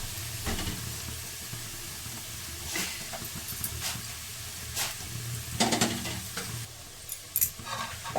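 Okra stir-fries in a pan for bhindi sabzi, a continuous moderate sizzle and hiss broken by repeated scraping stir strokes and occasional utensil knocks, with a low hum underneath.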